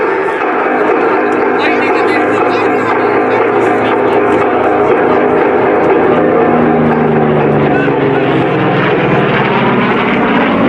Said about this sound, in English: Into the vertical right now in the hard-charging frontline fighter from World War II. The F4U Corsair.